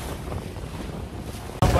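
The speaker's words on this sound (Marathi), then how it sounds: "आतमध्ये चालली आहे बोट दोन्ही आयलंडच्या मधून" A boat cuts through waves between two islands off the Konkan coast near Nivati, its hull and engine rumble mixed with steady wind buffeting and rushing water, then a louder gust hits the microphone near the end.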